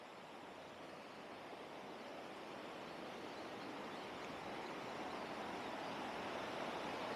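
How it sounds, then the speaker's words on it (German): A river near Tayrona National Park in Colombia rushes steadily as a broad, even wash of flowing water, faint and continuous for several seconds with no voices. "Und das ist der schöne Fluss."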